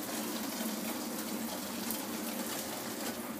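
Steady hiss of water streaming from a shower in a tiny house bathroom with a new hot water heater, continuous and even at a moderate level, with no talking.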